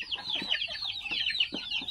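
Chickens on a farm clucking during feeding, a run of quick high bird calls close by with brief lower clucks, no talk.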